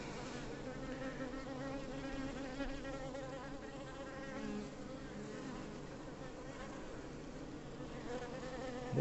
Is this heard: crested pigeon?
no